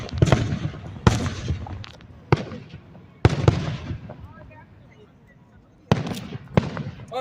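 Independence Day fireworks exploding nearby, several loud sharp bangs spaced a second or two apart, each followed by crackling fallout, with excited voices talking and cheering between the blasts.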